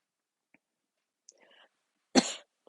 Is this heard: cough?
yes